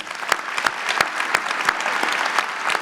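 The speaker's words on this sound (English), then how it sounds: "applaud her for the great job she's done here" A school audience applauds at a parents' weekend panel, producing a steady wash of clapping with regular sharper claps standing out, continuous throughout.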